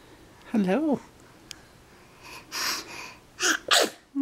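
A person sneezes once with a voiced rising-falling cry, followed by a few quick breathy bursts and a couple more sharp sneeze-like blasts, close and fairly loud over a quiet room.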